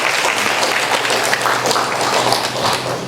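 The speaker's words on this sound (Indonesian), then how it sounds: "Kita beri tepuk tangan untuk Pastor Agus." An audience gives sustained, dense applause for Pastor Agus at an Advent church gathering, loud and even throughout with no talking over it.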